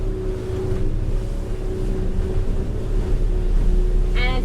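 Merry Fisher 895 Serie 2 motorboat cruising at speed around 20 knots, a steady loud engine drone with water and wind rushing past the hull, continuous throughout.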